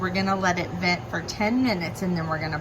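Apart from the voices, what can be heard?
No everyday noises stand out.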